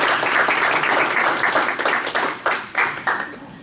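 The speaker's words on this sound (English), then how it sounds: "So I think we'll give her a quick round of applause" Board of education meeting audience gives a brief round of applause for a library bookmark contest winner, a dense burst of clapping that thins into scattered separate claps before fading.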